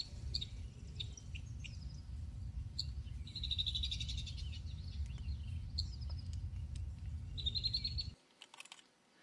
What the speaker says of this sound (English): It's playing cowbird chatter, and the rubbing blackbird male is approaching an alarm calling at it.